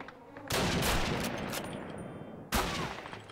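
Gunfire in the Call of Duty video game: two bursts of rapid automatic shots, the first sustained for about two seconds and the second short, loud against quieter background, with no talking.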